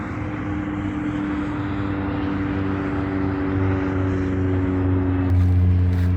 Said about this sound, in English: That's a big plane